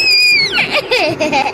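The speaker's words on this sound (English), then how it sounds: "Why are you screaming?" A young child lets out loud, high-pitched screams and squeals that slide and waver, close and continuous across the whole moment with no pauses.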